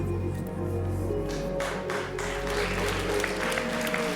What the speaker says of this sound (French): n'applaudissez pas cette offre foireuse du banquier